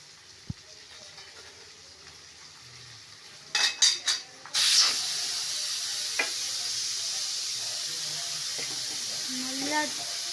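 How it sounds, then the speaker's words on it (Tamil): Onions sautéing with salt in a pan for a tomato thokku: a brief clatter of utensils, then a steady close sizzle that carries on to the end. "வெங்காயம் நல்லா வணங்கணும்"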